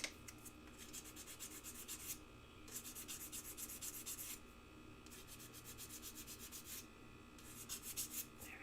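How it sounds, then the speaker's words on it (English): Metal is hand-sanded before soldering, giving repeated bursts of scratchy rubbing strokes in quick rhythmic runs separated by short pauses, close and fairly quiet with no talk. "I'm actually going to give a little bit extra sanding right there."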